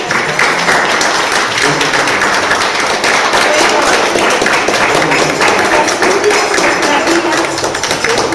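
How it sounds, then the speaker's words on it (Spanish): A seminar audience gives its rector a big round of applause: sustained, dense clapping from many hands, loud and close, holding steady for the whole stretch. "Un gran aplauso para ella."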